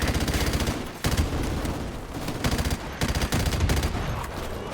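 Sustained bursts of automatic gunfire in Call of Duty Modern Warfare, loud and close, with dense rapid shots and brief breaks near one and three seconds as firing restarts.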